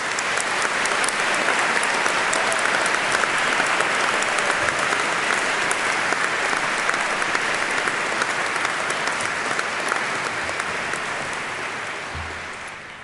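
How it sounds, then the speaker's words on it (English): Loud, sustained applause from a large crowd at a degree ceremony, steady clapping that continues for several seconds before slowly tapering off. "give them all a large round of applause and cheers"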